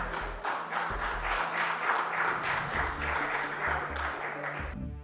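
Applause from an audience at a Spanish political event involving Vox and Rocío Monasterio, a dense steady patter of many hands lasting several seconds with a low rumble beneath, then cutting off abruptly near the end.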